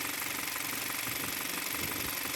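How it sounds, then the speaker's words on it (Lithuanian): A warm 2016 VW Jetta GLI engine running with a clattering knock from inside, a dense steady rapid mechanical rattle heard up close and continuous throughout, with no talk. "Šiltas variklis dirba klaksėdamas"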